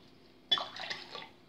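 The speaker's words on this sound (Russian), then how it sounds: "Наливаю стимулятора роста." Liquid growth stimulant for a dying store-bought orchid is poured in one short, close splash that starts abruptly and trickles on for about a second.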